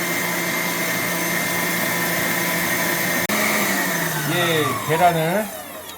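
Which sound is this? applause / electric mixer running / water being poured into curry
electric mixer running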